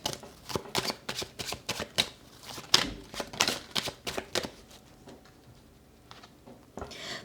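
A deck of tarot cards is shuffled close by, a quick series of crisp riffling flutters and soft slaps that slow and fade toward the end.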